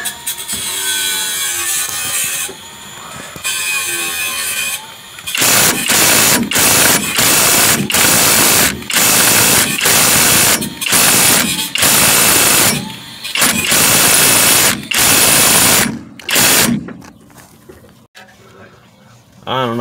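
A Kobalt 24V right angle impact wrench loosens a suspension bolt on a 2007 Sonata, hammering in a long series of loud rapid bursts separated by short pauses, close and harsh.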